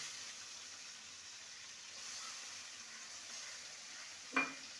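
Mustard, ginger, green chili and cumin paste hitting a hot pan, a steady soft sizzle with a brief sharp burst of spatter near the end.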